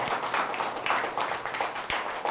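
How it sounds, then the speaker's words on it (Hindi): Children clapping together in a rough steady rhythm during a counting lesson, a string of evenly spaced claps heard fairly close and moderately loud. "आप सब अपने लिए तालियां बजा लें।"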